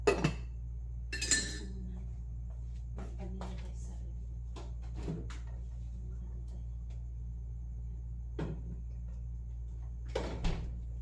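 Dishes and plates clink in short, scattered bursts while being handled at home at night, quiet clatters and knocks that stand out over a steady low hum.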